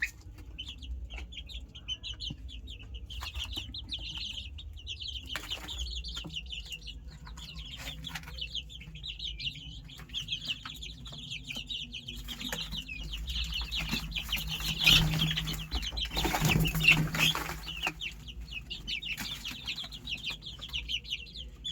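Desi chicken chicks peep continuously at close range while a hen and rooster cluck now and then, with some shuffling and brief wing flutters in the background.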